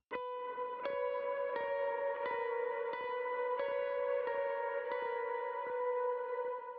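Fretted electric guitar notes from Jesus We Love You ring out in a steady, repeated high melody, each pluck sustaining with heavy echo and reverb.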